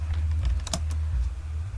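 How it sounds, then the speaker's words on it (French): Code being typed on a computer keyboard, quick close key clicks over a steady low hum. "nous allons écrire un peu de code à l'intérieur"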